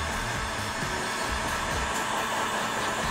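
Hot air gun blowing at 130 degrees Celsius, a steady loud whooshing roar of fan and airflow like a hairdryer, continuous and close with no talk.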